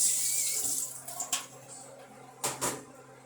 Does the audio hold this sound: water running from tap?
yes